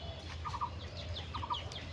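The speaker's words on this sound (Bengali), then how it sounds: "আর দেখতে পাচ্ছি মুরগি কিন্তু ছেড়ে দিয়েছি, 2টো মুরগি ছেড়ে দিয়েছি।" Chickens let loose outdoors give a few soft clucks at a distance, faint over low background noise.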